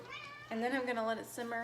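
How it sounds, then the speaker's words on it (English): A pet cat meows in a home kitchen during cooking, giving two drawn-out, close meows that overlap a person talking. "That's my cat"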